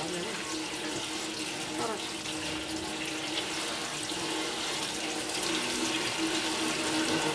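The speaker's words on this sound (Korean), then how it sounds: "흐르는 물에다 이렇게 씻어야 돼요." Tap water running steadily over perilla leaves being washed in a kitchen sink, a continuous close splashing rush that grows slightly louder toward the end.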